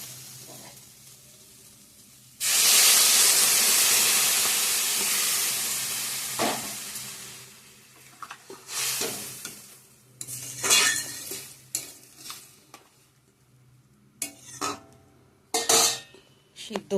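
Water poured into hot frying spices in a pan sets off a sudden loud, sustained hiss that slowly fades, followed by intermittent scrapes and clinks of a spoon stirring against the metal.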